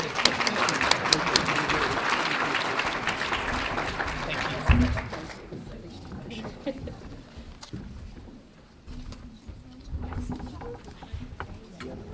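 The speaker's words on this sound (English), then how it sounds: "let's give them a round of applause" Audience applause at a healthcare summit, dense and fairly loud for about five seconds, then fading into scattered claps and room noise with some murmuring and a bump or two.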